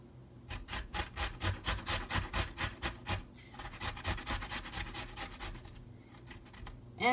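A whole beet, skin on, rubbed back and forth across a grater for soup, making a quick run of rhythmic rasping strokes, close and fairly loud, with a short pause partway through.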